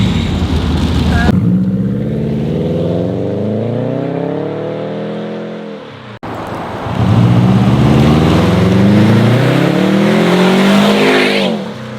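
A 2007 Subaru Legacy GT with an axle-back muffler delete makes loud, raspy exhaust as the engine pulls hard through the gears, with rising pitch, a brief drop-off at each shift, then another sustained pull.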